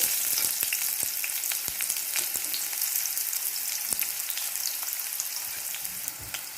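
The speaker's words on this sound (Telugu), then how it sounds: "ఆనియన్స్ గోల్డెన్ కలర్ వచ్చేంత వరకు ఫ్రై చేసుకోవాలి" Finely chopped onions and green chillies frying in hot oil for a restaurant-style kadai chicken, a bright, continuous crackling sizzle with scattered pops, close and steady throughout, no voices.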